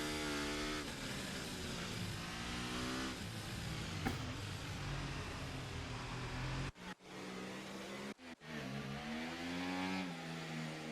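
CanAm race cars on the formation lap at Las Vegas, loud engines droning and revving up and down in sweeping pitch, with a couple of sharp cuts as cars pass close.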